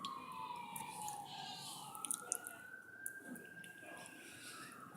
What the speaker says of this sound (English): And there's an ambulance going past.